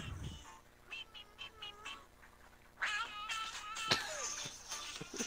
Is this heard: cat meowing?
yes